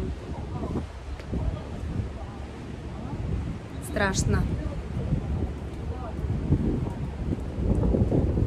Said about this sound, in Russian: сильно дует ветер